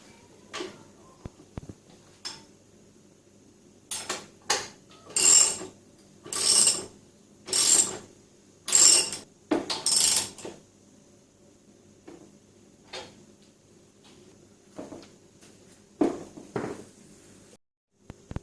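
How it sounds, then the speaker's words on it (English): A 17mm spanner and a 19mm socket work on a Bambino, giving several loud close ratcheting bursts separated by quieter knocks and handling of metal parts. "I'm going to use a 17mm spanner and a 19mm socket."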